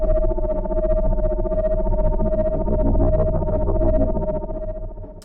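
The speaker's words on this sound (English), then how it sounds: "So the pulsating sounds are these." Pulsating energy beam sound effect layers throb with a steady humming drone and rhythmic buzzy pulses, loud and sustained for several seconds before easing off, with no talk.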